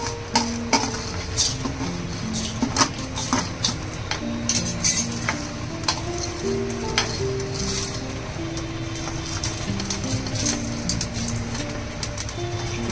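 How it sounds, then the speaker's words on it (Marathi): Coriander seeds and spices dry roasting in a pan for Kutchi dabeli masala, with a dense rattle of seeds and repeated clinks and scrapes of a spoon against metal, steady and close. "बाकी सगळं भाजून घेऊया। धना आहे"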